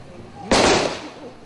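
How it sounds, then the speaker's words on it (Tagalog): A gun salute at a congressman's burial, one sharp loud report that rings out briefly and fades, with no one speaking. "Pagkatapos ng final blessing, ginawaran ng gun salute ang kongresista."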